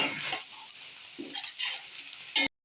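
Ginger garlic paste being fried for a Saudi-style egg dish gives a steady close sizzle with stirring scrapes and a few louder bursts of spatter, no talking.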